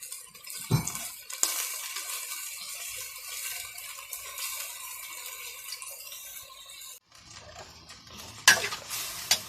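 Food stir-fried in a very hot pan after fish sauce and another sauce are added, a soft sizzle under repeated scrapes and clatters of a spatula, with a brief pause and then louder bursts of stirring near the end.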